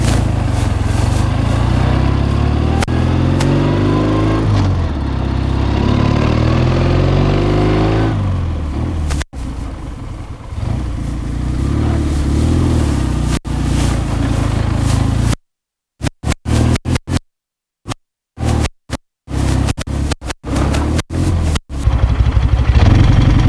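A 1973 Chang Jiang military-style motorcycle with sidecar runs loud and close, its engine note rising and falling through a series of smooth gear shifts up to fourth and back down to first, with brief dropouts near the end.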